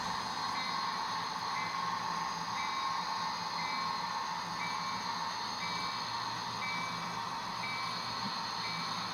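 A model train rolls steadily through a rail yard, giving a continuous even mechanical whir and rumble with faint repeated high squeaks. No pauses or voices.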